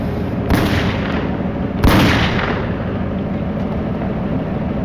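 Two loud gunshots during a reenacted bank robbery by masked gunmen, sharp separate bangs about a second and a half apart over a constant roar of background noise, no speech.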